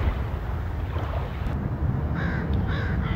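Crows caw outdoors against steady wind and lapping water, with a few loud harsh calls repeating near the end.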